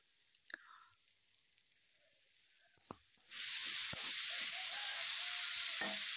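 Potatoes sizzle loudly in a hot pan for a tomato-potato tok, with a few faint scrapes of stirring before the frying noise swells up and holds steady.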